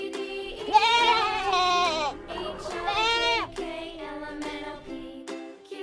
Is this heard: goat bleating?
yes